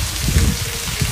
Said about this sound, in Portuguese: Olha aí, vem mais chuva. É chuva que Deus manda.